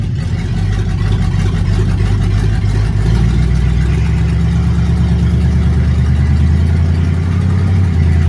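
A car engine fitted with an Amazon DIY exhaust kit runs loud and close with a deep, steady drone, its pitch slowly shifting as the transmission moves through gears, with no voices.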